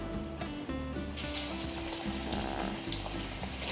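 Chicken pieces coated in turmeric and salt frying in hot oil, a steady close crackling sizzle that runs unbroken and fairly loud with no talk over it.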